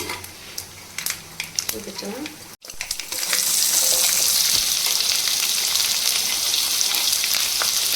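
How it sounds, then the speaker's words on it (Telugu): A few clinks and light handling sounds, then a loud, steady sizzle of chopped onions and green chilies hitting hot oil and frying continuously up close. "ఉల్లిపాయలు పచ్చిమిరపకాయలు కూడా వేగిపోయాయండి"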